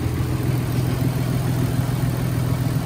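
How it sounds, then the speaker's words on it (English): A Nissan 300ZX Z32 engine idles steadily with a low, even rumble, close by and unchanging throughout, with no ticking. "This thing is idling smooth and quiet"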